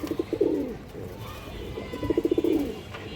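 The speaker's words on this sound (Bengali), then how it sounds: "দর্শক এখানে একটা নর কবুতর আছে" A male pigeon at a breeder's loft coos close by in two short rolling bursts, with a quiet pause between them.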